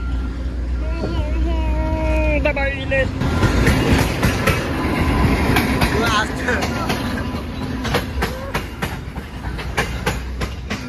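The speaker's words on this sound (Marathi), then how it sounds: "बघा काय ट्रेन आली किती जवळ" A train roars past close by, loud rumbling with rhythmic clickety-clack of wheels, preceded by a rising horn-like tone at the start.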